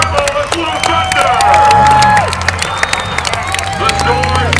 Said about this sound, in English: Give a nice round of applause to Frank Cribble, the Blue Thunder